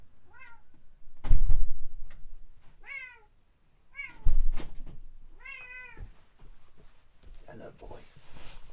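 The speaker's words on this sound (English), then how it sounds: "Just had to let the cat in." A cat meows several times in a row, clear and close, with loud thumps of a door between the calls.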